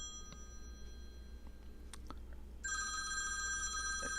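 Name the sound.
telephone ringing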